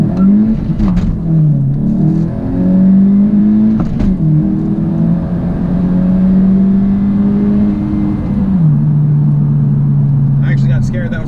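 A 2017 Honda Civic EX-T turbo with cold air intake and flex fuel accelerating hard on a cold road, engine note climbing steadily through the gears with a brief shift dip, loud and close from inside the cabin.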